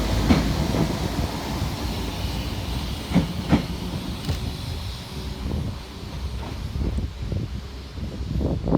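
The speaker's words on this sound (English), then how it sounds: "Next train out to depart is 197019 with the 1421 Transport for Wales service through to Chester." A Class 197 Transport for Wales diesel multiple unit pulls out of Crewe station on a service to Chester, giving a steady low rumble with hiss and a few sharp clanks and clicks over continuous station ambience.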